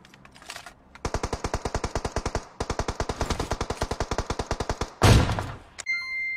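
Rapid automatic gunfire in a first-person shooter video game, long bursts of evenly spaced shots close and loud, broken by a brief gap, then a heavy impact boom near the end.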